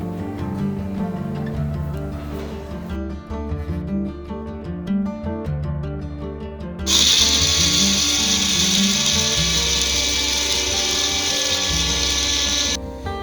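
Roasted spices and curry leaves whir in an electric mixer grinder. A steady motor drone starts, then jumps into a loud, bright, gritty grind that holds steadily for about six seconds before cutting off.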